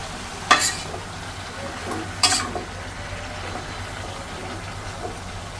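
Shrimp frying with vegetables, onion, green chilli, salt and ground spices in a pan: a soft continuous sizzle with two sharp scraping stirs near the start and middle.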